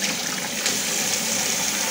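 Tap water runs steadily into a sink during face washing after a shave, a loud, close, continuous splashing hiss with no talk.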